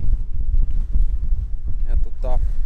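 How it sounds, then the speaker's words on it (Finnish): Strong wind of about 7-8 metres per second buffets the microphone with low rumbling gusts aboard a sailboat in the Finnish archipelago, with a brief voice near the end. "Täällä tuulee nyt todella mukavasti."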